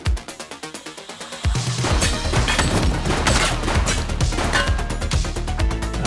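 Gunfire in the retro police video game The Precinct: a few spaced single shots, then a dense, loud fusillade of rapid overlapping bursts and impacts continuing without pause.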